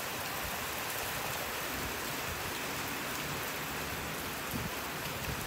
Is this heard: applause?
no